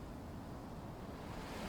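Lagoon waves wash steadily onto the shore in a continuous, even surf roar with no distinct breaks, a soft outdoor wash that stays constant throughout.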